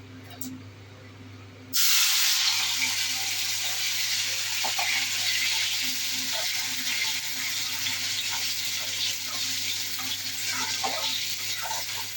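Bitter gourd chips drop into hot oil in a kadai and burst into a loud, steady sizzle that holds, crackling, after a quieter opening second or two.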